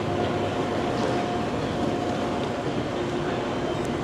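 A train on railway tracks in China gives a steady, broad rumble that fills the whole stretch evenly, with no distinct clatter or voices.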